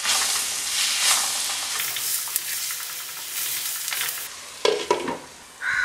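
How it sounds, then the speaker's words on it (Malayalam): Crab roast with tomatoes and kudampuli is stirred in a pan, its spatula scraping over a constant close sizzle and hiss of steam, with a few louder knocks toward the end. "ഇടയ്ക്കൊന്ന് തുറന്ന് നോക്കി ഇളക്കി കൊടുക്കണം കേട്ടോ."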